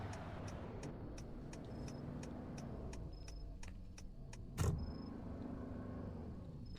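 Wisconsin State Patrol police car pulling in and driving, heard from inside the cabin: a low, faint engine rumble under a steady ticking indicator, with a short thump midway and no talk.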